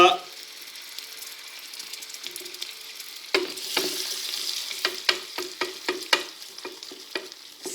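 Hot golden caramel bursting into a vigorous bubbling sizzle as cold butter goes in, with a busy hiss and a run of sharp crackling pops that grow louder and more rhythmic over the second half.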